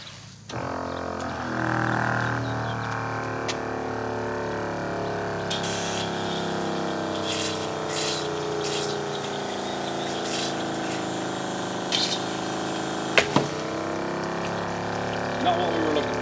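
Pump on a pull-behind ATV/UTV boom sprayer starts and runs with a steady droning whir and hum, holding constant and fairly close, with some faint background sounds and a couple of brief clicks near the end.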